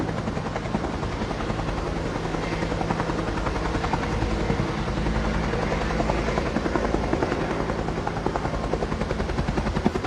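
A helicopter flies steadily overhead for an airlift at Waikiki on Oahu, its loud, continuous rotor thump and engine drone filling the scene from start to finish without pause.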